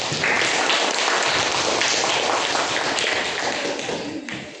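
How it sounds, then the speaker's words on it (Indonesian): Classroom applause after a student group's presentation during teacher training: dense, steady clapping from many hands, close and loud, filling the whole stretch before tapering slightly at the end. "Kasih tepuk tangan."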